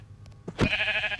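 A sheep bleats in a Minecraft Lucky Blocks game, one drawn-out, wavering bleat of about half a second preceded by a short soft thump, loud and close with no talking.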